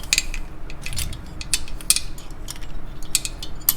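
A wrench ratchets on a Harley-Davidson Ultra Classic engine, giving bursts of sharp metallic clicks close by, with pauses between them and no talk.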